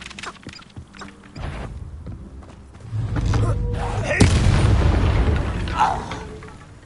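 A Confringo blasting spell explodes in Hogwarts Legacy, a heavy booming blast that swells into a loud rumbling roar after a few scattered thumps, with voices speaking over it.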